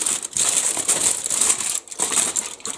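Crinkly paper wrappers are pulled off steamed hot dogs and buns, giving close, loud rustling and crumpling in quick bursts with brief pauses.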